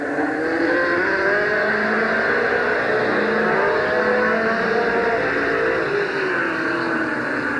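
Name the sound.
race cars at Midvale Speedway 1988 fall classic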